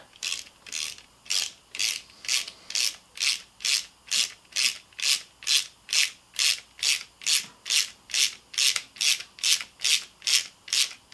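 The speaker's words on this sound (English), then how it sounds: "so that when you thread this, the cap screw will actually thread into the cam cleat" A cap screw being turned into a cam cleat for a Beast Stick fishing rod mod gives a steady, rhythmic ratcheting: about twenty evenly spaced scraping clicks, close up and fairly loud, with no talking.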